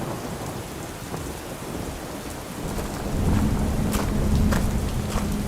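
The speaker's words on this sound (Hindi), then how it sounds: "बीच बीच में हल्की बारिश हो रही थी" Rain falls steadily on a village at night, a dense hiss with rumbles of thunder that grow louder toward the end.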